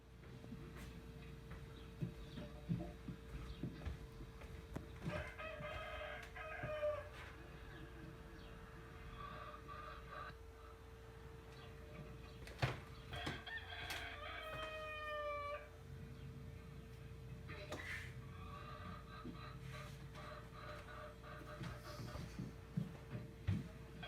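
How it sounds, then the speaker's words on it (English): Chickens and a noisy rooster at a farm chicken house, with several faint, distant drawn-out calls rising and falling at intervals over a low steady background hum. "I'm going to show you a quick video of the chickens and a rooster, a very noisy rooster at Wagner Farm"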